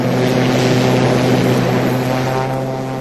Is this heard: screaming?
no